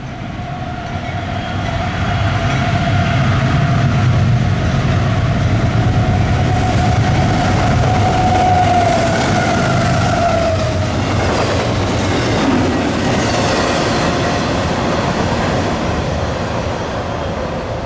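A long eastbound freight train hauled by GE locomotives rolls past close by: a loud, continuous rumble and rattle of wagons, with a sustained horn-like tone early on that fades as the cars keep clattering, and no voices.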